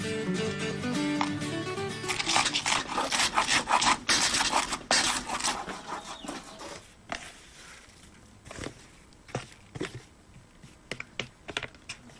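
Spices and river crab pounded and ground by hand into a paste, producing rapid scraping, rubbing strokes and gritty taps, dense at first and then thinning into separate scrapes.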